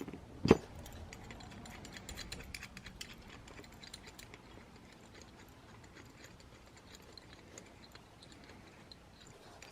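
Faint clicking and ratcheting while a nut is unscrewed from a Sur Ron Light Bee adjustable kickstand, with one sharp knock near the start, close and quiet.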